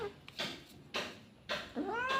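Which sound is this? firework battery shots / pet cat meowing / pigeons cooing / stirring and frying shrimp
pet cat meowing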